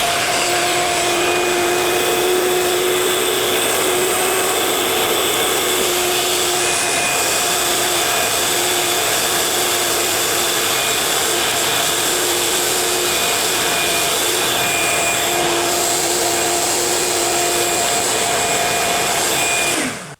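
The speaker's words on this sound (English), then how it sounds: "So let's go ahead and start with the shop vac." A Ridgid shop vacuum fitted with a cyclone separator runs loud and close in a steady, high-pitched whine with a strong whistling drone, then cuts off abruptly at the end.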